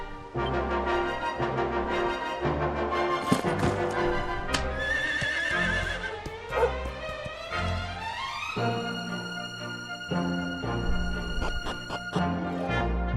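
A horse in the video game Dragon Quest XI gives a loud, drawn-out whinny with clip-clopping hooves, layered over continuous game music that runs the whole time without any speech.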